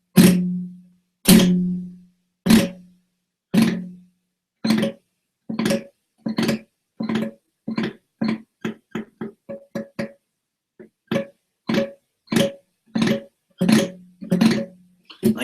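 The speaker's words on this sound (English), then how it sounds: "put your whole entire hand on parts of the fretboard near the neck" Guitar struck with the whole hand across the fretboard near the neck, giving a steady run of sharp percussive slaps and muted plucks, close and loud, with a faster flurry in the middle and no talking.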